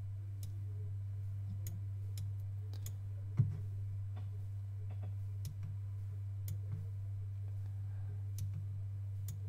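Computer mouse clicking, a series of faint, sparse, irregular clicks over roughly nine seconds above a steady low electrical hum, with one slightly louder click early on and no speech.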